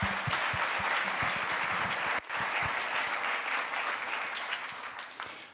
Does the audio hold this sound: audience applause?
yes